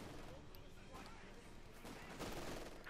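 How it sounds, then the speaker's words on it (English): Machine guns blazing in a Company of Heroes 2 battle, with dense overlapping bursts of automatic gunfire and distant explosions forming a continuous roar throughout, with no talking. "in the centre, Panzer gun, his machine guns all blazing away"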